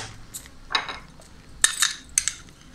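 A big spoon clinks against a metal cooking pot in a few sharp, bright taps spread across a couple of seconds, close and fairly quiet, with no talk.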